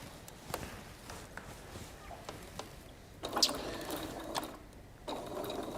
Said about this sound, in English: So I'm going to stitch around in a 1/4 inch seam allowance